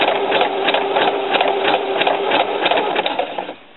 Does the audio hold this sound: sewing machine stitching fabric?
yes